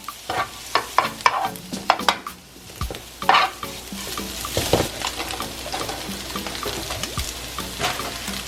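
Five eggs fry in a pan for turkey fried rice with a steady sizzle, broken by repeated scraping and stirring clatter from a utensil against the pan, close and busy throughout.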